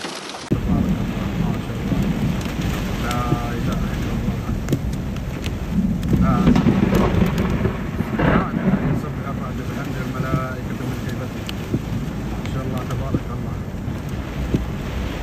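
Steady heavy rain pours throughout with gusts of wind buffeting the microphone and low rumbles of thunder rolling in; faint voices surface in the background, during a storm in Saudi Arabia.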